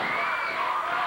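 A wrestling arena crowd at a 1987 Memphis championship show cheers in a dense, sustained roar of many voices, loud and continuous throughout.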